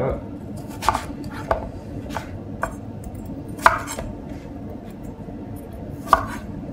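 A knife cuts pumpkin into sticks on a board, giving about half a dozen sharp, close chops spaced irregularly over a faint low background, with no talk.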